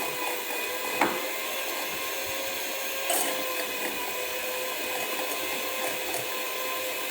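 An electric hand mixer beats chocolate cookie dough until creamy, a steady high whirring drone with faint tonal bands and a few small knocks of the beaters against the bowl.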